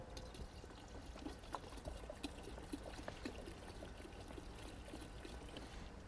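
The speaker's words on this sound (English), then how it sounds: "I'm just going to pour some in for sake of example." Gym floor cleaner concentrate is poured in a maintenance closet, a faint, steady trickle of liquid running for several seconds under a low background hiss.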